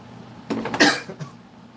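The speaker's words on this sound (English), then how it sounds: "Coughing in your ears, so inappropriate." A person coughs once or twice close to the microphone, a short harsh burst followed by a faint trailing sound in an otherwise quiet room.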